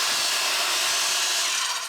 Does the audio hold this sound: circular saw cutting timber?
yes